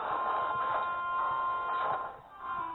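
Vacuum suction in Luigi's Mansion 2 on the 3DS, a steady whirring drone with a thin sustained whine that pulses and swells for a few seconds, playing alone.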